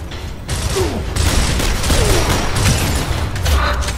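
Gunfire in the Gears of War shooter game, a dense, continuous rattle of weapons fire and impacts, loud and steady, with battle noise underneath.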